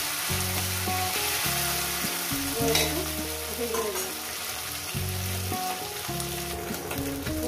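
Small mourala fish fry in a pan with a continuous close hiss and sizzle, while a steady tonal hum with rhythmic on-off pulses runs underneath throughout.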